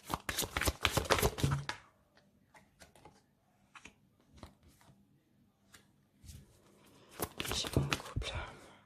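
Tarot cards being shuffled by hand, with dense riffling bursts at the start and again near the end and softer scattered card taps and slides in between.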